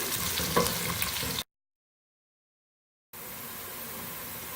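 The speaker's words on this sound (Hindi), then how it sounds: "प्याज को हम फ्राई करेंगे।" Chopped onions fry in a pan with a steady, close sizzle that cuts out briefly to silence partway through, then resumes.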